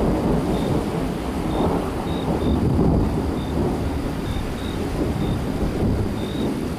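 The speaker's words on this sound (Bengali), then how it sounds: "মামাবাড়িতে ঢুকতেই বৃষ্টি অঝরে নেমে এলো" A cartoon sound effect of heavy rain pouring with rolling thunder, a loud, steady roar of downpour with low rumbling swells, no speech.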